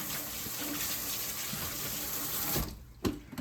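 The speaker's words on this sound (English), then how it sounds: "rinse this off here" Water from a kitchen tap runs steadily while a dish is rinsed, a close, continuous gush that cuts off near the end with a brief clatter.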